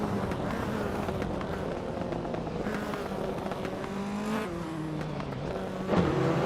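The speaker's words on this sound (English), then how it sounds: "Maya is driving a 2015 Mercedes-Benz 45 AMG" A 2015 Mercedes-Benz 45 AMG race car drives in a steady, loud engine drone, with the pitch rising and falling as it shifts and a brief surge near the end.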